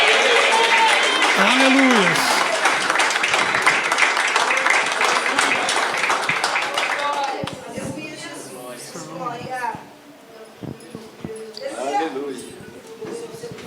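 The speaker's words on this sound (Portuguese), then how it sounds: "Bate palmas e dê glória a Deus," A church congregation claps hands loudly for about seven seconds during a worship service, then the clapping fades and a voice speaks over quieter room sound.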